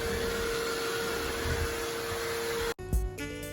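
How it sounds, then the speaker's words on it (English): A Bissell Crosswave Cordless Maxx cordless vacuum hums and whirs steadily at close range for nearly three seconds, then cuts out abruptly with a short clunk and fading rattle. "So it does have a sound like any other vacuum"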